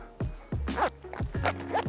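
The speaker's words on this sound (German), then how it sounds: "Dann nehme ich meinen Reißverschluss, am besten ziehe ich es ein bisschen straff." A zipper on a James Baroud roof tent awning is pulled in several short, rasping strokes, close and distinct, with small pauses between the pulls.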